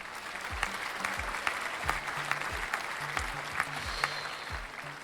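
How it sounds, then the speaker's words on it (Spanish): Applause from a crowd, a steady patter of clapping that goes on throughout, with faint low thumps under it. "vamos a darle un aplauso."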